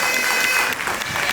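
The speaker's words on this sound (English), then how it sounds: "Big round of applause for Mo." Short burst of audience applause for Mo at a PARCA twentieth-anniversary celebration, dense and fairly loud crowd clapping that dips slightly midway and carries on.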